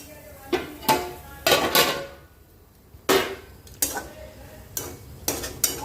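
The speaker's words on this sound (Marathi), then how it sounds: "आता हलवून घेऊया परत एकदा" Onion greens and dried fish being stirred in a pan, with a spatula scraping and knocking against the metal in a string of uneven, close strokes and short pauses between them.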